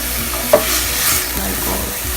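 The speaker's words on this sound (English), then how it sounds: "In went a heaped tablespoon of ginger and garlic. And just saute it until that" A heaped tablespoon of ginger and garlic sizzles steadily in a hot pan for keema karela, with one brief utensil knock early on against the close, even frying hiss.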